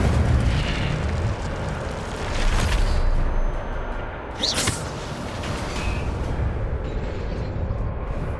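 In Hogwarts Legacy, the Incendio fire spell erupts with a booming, fiery burst over steady game ambience, followed by a brief sharp crackle.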